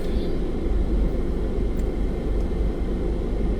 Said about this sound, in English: a big old truck.